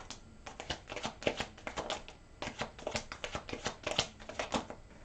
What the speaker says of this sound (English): Let's take out the rest of the cards for this reading